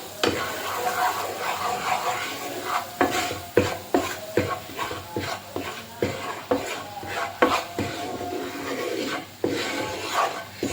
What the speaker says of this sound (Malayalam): ഒരു പിഞ്ച് പെരിഞ്ചീരകം പൊടിച്ചത് ഇതെല്ലാം കൂടി നമുക്കൊന്ന് ഇളക്കിയെടുക്കാം